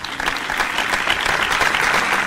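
Audience applause at a live ghazal performance, a dense steady burst of many hands clapping that fills the whole stretch at even loudness, with no talk over it.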